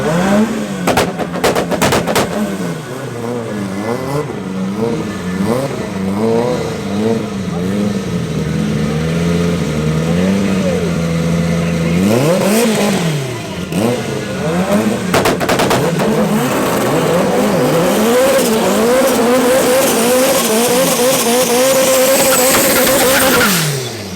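Loud drag race car engines, including an Opel, roar and rev with rising and falling pitch at Midvaal Raceway, sharp backfire pops at the start, under a commentator's voice as the cars launch down the strip.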